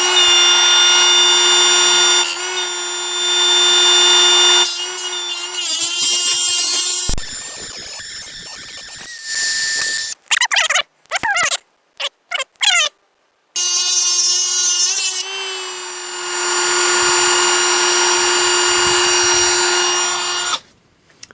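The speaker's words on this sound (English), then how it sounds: "I pushed down pretty hard on that for a Dremel" Dremel rotary tool cutting into metal for custom vise jaws, a loud steady high-pitched whine in long runs that stop and restart, with short choppy bursts in the middle as the tool is pressed hard against the workpiece.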